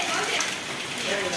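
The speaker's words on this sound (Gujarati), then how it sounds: "મોટા મોટા સાંટેનો જોરદાર વરસાદ આવે છે" Heavy rain with big drops falls during a village storm in Mangadh, Gujarat, a close, loud, continuous hiss and patter with no break across the moment.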